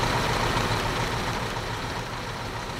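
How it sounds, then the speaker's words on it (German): Truck engine idling in the Bau Simulator 2015 construction game, a steady low rumbling drone that fades slightly, alone without talk. "weil der LKW, der ist viel zu laut"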